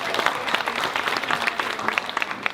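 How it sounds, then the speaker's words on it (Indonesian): Audience at a university debate breaks into lively applause, a dense close patter of clapping hands that holds steady throughout. "kita berikan tepuk tangan yang meriah untuk tempat ini"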